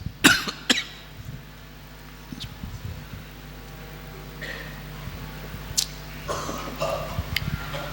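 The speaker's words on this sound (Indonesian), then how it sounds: "Siapa itu yang ikut batuk juga?" A few short coughs near the start, then quiet room noise with faint clicks and shuffles, plus a couple more brief bursts later.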